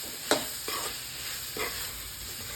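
Fried vegetables tossed back into a hot pan for a mixed vegetable sabzi, giving a faint, steady sizzle with three brief scraping stirs of a spoon, no voices.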